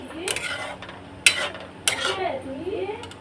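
Dal cooking in a kadai, with a few metal scrapes and clinks of a spoon stirring against the pan over a soft background, while a voice speaks briefly.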